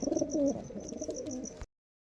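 Giribaz pigeons coo in a short run of soft, throaty, rolling calls, close by and alone, cutting off abruptly.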